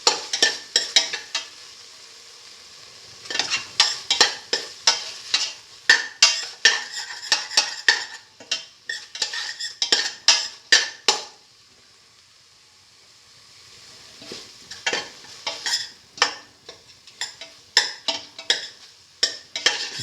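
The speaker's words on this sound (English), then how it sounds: "Keep on sauteing." Crushed tomatoes sautéing in a pan while a utensil stirs and scrapes, giving clustered metallic clinks and scraping bursts over a faint sizzle, with a quieter pause midway before the stirring picks up again.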